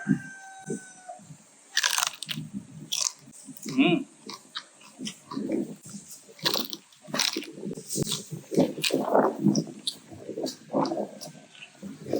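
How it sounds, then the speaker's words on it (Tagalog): Crunchy skin of Cebu lechon, roast pig, being bitten and chewed up close, a series of crisp crackling crunches in irregular bursts, with a person talking in between. "Unang kagat para sa inyo mga kasakol."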